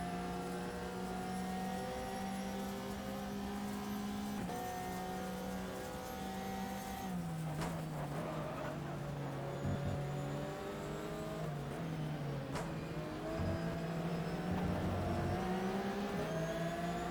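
Race cars roar in the GTR racing game as Ferraris and Porsches run in a pack, a steady loud engine drone rising and falling in pitch through gear changes, with no voices over it.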